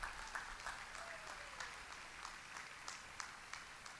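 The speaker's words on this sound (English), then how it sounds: "If you would just give them a round of applause for all." Applause at a graduation ceremony for the cleaning staff, a faint, distant hall full of steady clapping with sharper individual claps standing out, no voices over it.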